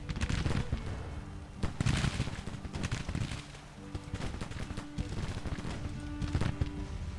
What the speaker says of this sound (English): all of the artillery units, I'm going to have you all focus on counter battery fire